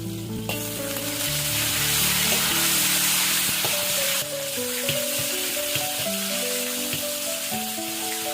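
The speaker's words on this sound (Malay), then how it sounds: "kita goreng satu cawan ikan bilis" One cup of anchovies frying until crisp in hot oil gives a loud, steady sizzle close by with occasional stirring, over light background music.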